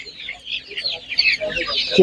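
Chickens clucking and chattering steadily at an animal market, with a brief burst of talk near the end.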